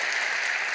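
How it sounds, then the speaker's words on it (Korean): A church congregation applauds in a steady, dense wash of clapping, loud and continuous throughout, with no talk over it. "여러분 크게 박수로 환영하시지요."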